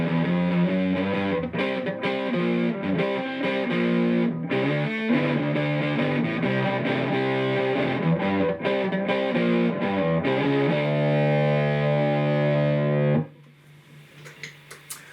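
A heavily distorted electric guitar through a tube amp plays loud, thick chords and riffs, ending on a held chord before cutting off into quiet noise.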